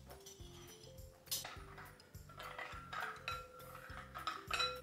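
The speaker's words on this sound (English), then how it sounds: "You want to pick up a spoon and mix them for me?" Wet cookie ingredients for chocolate chip cookies are mixed with a spoon in a bowl, regular clinking strokes against the bowl in a quick rhythm, close and moderately loud, with a faint tonal hum underneath.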